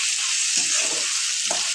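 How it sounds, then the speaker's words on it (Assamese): Boiled chicken is stirred in a pan with bay leaf, ginger and garlic, giving a continuous bright sizzle with soft scraping from the stirring and no talking. "বইল কৰি থোৱা মাংসখিনি দি দিলোঁ এইখিনি অকমান লাৰি ল'ম"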